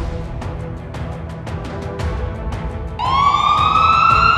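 An ambulance siren in a Chinese city during a COVID surge wails loud and close, its rising tone cutting in over steady traffic noise after a stretch of rhythmic clicking.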